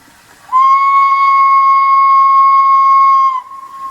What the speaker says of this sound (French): Je mets le sifflet à vapeur en marche.